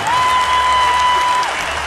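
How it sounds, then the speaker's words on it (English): A South African cricket crowd at a Test match in Cape Town applauds and cheers loudly and steadily as a batsman reaches a half century, with a sustained whistle-like tone running over the noise. "What a response from the South African crowd."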